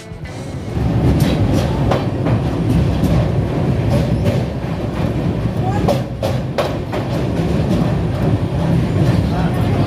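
A passenger train rolls across the Kashi bridge on the Kolkata to Kashi run, its steady loud rumble of wheels and carriages filling the whole stretch with faint clicks and squeals on top. Voices can be heard faintly under the noise.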